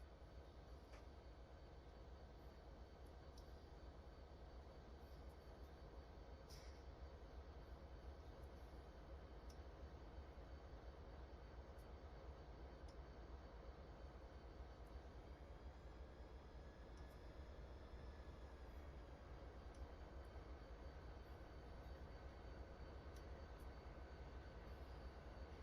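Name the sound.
locomotive engines running, Train Simulator 2021 video game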